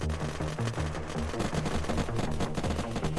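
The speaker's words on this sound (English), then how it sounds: "Suppressing fire." Rapid automatic gunfire in the Unturned video game, a dense, continuous volley of close, loud shots with no talking.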